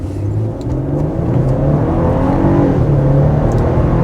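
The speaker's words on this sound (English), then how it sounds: "That twin turbocharged V6 definitely does not lack power, and that 9-speed, it's very nicely paired with this engine as well." A 2026 Nissan Armada Platinum Reserve's twin-turbo V6, paired with a 9-speed transmission, pulls hard from inside the full-size SUV, a loud, close engine drone rising and shifting through gears with road roar underneath.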